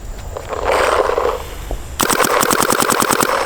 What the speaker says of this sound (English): we are shooting technically hot with this